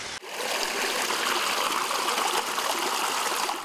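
Drinking water gushes from a broken pipe in a steady, loud, hissing rush, close by and without talk.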